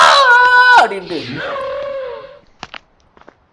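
A loud, drawn-out rooster-like crowing call in a Jurassic-themed horror video game rises and then slides downward, followed by a few faint clicks.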